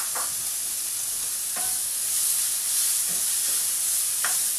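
Diced bacon fries in a pan with a constant bright sizzle, broken by a few soft scrapes as the pieces are stirred and tossed, close and steady with no voices.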